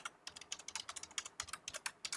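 Code being typed on a computer keyboard, a quick steady run of crisp close key clicks with a few brief pauses, heard alone with no talking.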